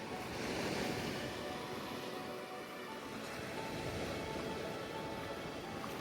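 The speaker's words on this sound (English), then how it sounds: "I love the ocean, but it reminds me of my dad" Ocean waves rolling in on an open shore, a constant, fairly faint wash of surf blended with wind rumble, steady through the whole stretch with no voices.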